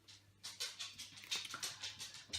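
Merlin, a pet dog, shuffles and patters about nearby, with a run of soft, rhythmic scratchy steps or paw movements on a hard surface, fairly quiet and without talking.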